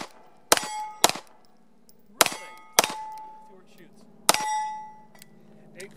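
Pistol rounds from a CZ P09 strike steel targets, giving five or six sharp metallic clangs with ringing tails, spaced irregularly at close range, with faint background sounds between them.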